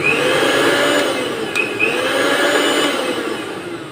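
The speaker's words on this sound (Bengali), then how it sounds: "এই দেখুন ব্লেন্ডার চালিয়ে দেখি এই দেখুন ব্লেন্ডার মেশিন ঘুরছে" An electric blender under repair runs with its motor spinning while the jug on top fails to turn at full speed, making a loud, steady motor whine with a slight wavering pitch and no talking.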